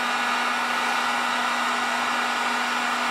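A heat gun shrinks heat shrink tubing onto a fishing rod at a workbench. A loud, close, continuous blowing whoosh holds steady throughout, with no speech over it.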